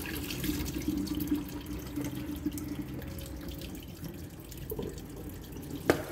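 Water being poured off soaking maple pea seeds, a steady trickling, splashing flow into a sink with small drips, close and fairly quiet, ending in a brief louder knock.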